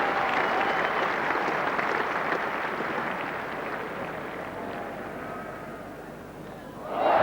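A cricket crowd at Old Trafford in 1986 applauds a batsman's half-century during a one-day international, a steady sustained wash of clapping that slowly fades, with a commentator's voice coming in at the end.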